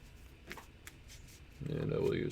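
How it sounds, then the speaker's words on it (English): A short burst of rapid card-riffling shuffle sound in the second half, fairly close, after faint scattered clicks and ticks, in an online card game. "I will use Jonah to shuffle your book."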